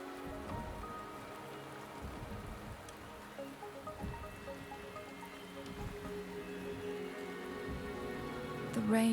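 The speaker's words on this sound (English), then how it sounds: "The rain is subsiding, and the sky will soon clear." Steady rain falls in a video game scene, a continuous soft patter of drops on surfaces with scattered drips, moderately quiet and unbroken throughout, with a short tonal game sound at the very end.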